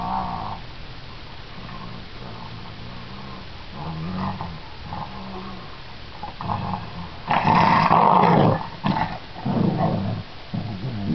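A small dog growls and grumbles in low, rumbling bursts, with a louder, rougher snarl near the end, close by and with no talking.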